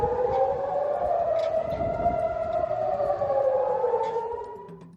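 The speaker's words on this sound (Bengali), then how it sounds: "গোষ্ঠীটির হামলার কারণে ইসরায়েল জুড়ে সাইরেন বেজে উঠেছে।" An air raid siren wails across Israel during a missile attack, one long, loud, sustained rising-and-falling tone that fades near the end, with no voices.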